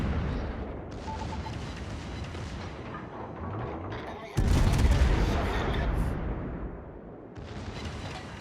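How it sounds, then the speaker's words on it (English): In the World of Warships naval game, an incoming battleship gun volley lands as a sudden heavy boom partway through, then slowly fades over a steady low rumble of battle noise. "There's the volley coming in from the battleship"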